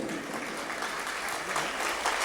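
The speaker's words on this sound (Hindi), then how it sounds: "मेरे स्वागत में बड़ी तालियां बजती हैं।" Crowd at a kavi sammelan, a Hindi poetry gathering at a cultural festival, clapping in welcome for a poet, a continuous wash of applause with a voice faintly underneath.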